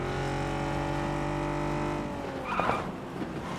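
A car in PUBG, first a loud steady engine drone, then the tone drops and a short tyre squeal and skid rises as the vehicle slides, with engine rumble continuing behind.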